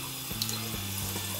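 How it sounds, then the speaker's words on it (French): Hot running water streams over a beard and hair trimmer head while its blades are worked to flush out hairs and debris. The flow is a steady close hiss, with faint clicks and low hum underneath. "Placez la tête sous un filet d'eau chaude afin d'enlever toutes les petites cochonneries."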